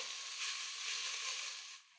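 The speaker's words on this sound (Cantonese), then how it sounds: "然後倒啲雞落去，調去中細火。" Chicken pieces sear in a little oil in a hot pan over medium-low heat, giving a steady, close sizzle that drops away near the end.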